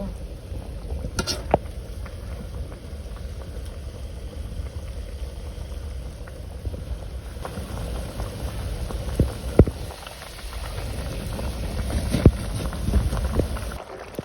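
A pot of small-fish curry simmers on a village stove, a steady low bubbling and hiss close by, with a few faint clinks and knocks scattered through it.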